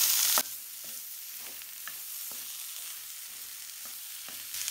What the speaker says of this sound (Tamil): வேக வச்சு உருளைக்கிழங்கு சேர்த்திக்கலாம். நல்லா ஒன்று சேர கலந்து விட்டுக்கலாம்.